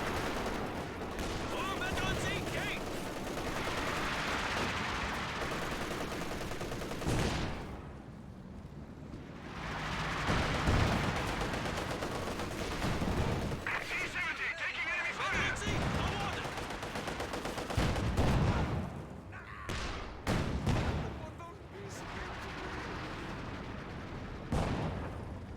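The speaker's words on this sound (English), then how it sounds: "we do now have the MG-34 firing away" MG-34 machine gun firing in Company of Heroes 2, a World War II strategy game, with sustained rattling bursts amid dense battle noise and explosions, commentary talking over throughout.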